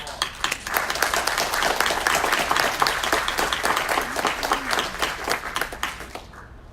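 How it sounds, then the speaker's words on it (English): Audience applause from a seated crowd, dense steady clapping sustained for several seconds at moderate volume before tapering off at the end. "One more round of applause."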